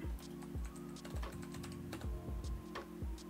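Keys clatter on a computer keyboard in quick, irregular bursts of close, crisp taps, heard alone.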